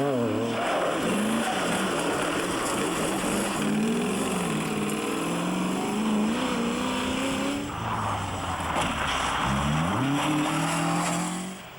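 Rally car racing at night, engine revving hard and rising and falling in pitch as the car accelerates and shifts, loud and close throughout with brief tyre noise.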